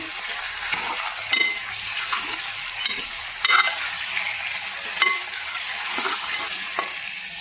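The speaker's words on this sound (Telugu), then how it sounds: "మటన్ని కలుపుకున్నాను." Mutton pieces stirred in a cooking pot for a home-style mutton curry, with repeated spoon scrapes and clanks at a steady rhythm over a soft, constant sizzle, heard up close and without talk.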